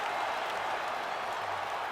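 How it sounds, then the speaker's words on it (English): A crowd cheers and applauds in a UFC 5 arena after a full-length fight, a steady wash of clapping and roaring throughout at moderate level. "Stand and cheer"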